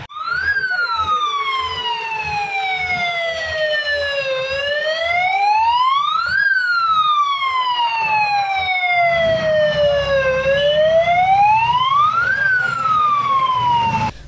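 A fire engine siren wails loudly and continuously at a fire scene, sweeping slowly up and down in long repeated cycles, with engine rumble and traffic noise underneath.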